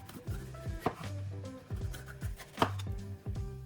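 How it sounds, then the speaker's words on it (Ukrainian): Kitchen knife chopping a bell pepper on a cutting board, close crisp chops in quick rhythmic bursts separated by short pauses. "буду нарізати паприку."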